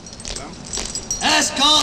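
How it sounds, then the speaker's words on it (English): Keys jangle during the Ceremony of the Keys in London in 1981, a metallic rattle mixed under loud shouted commands and ceremonial voices. "The keys. Whose keys? Queen Elizabeth's keys."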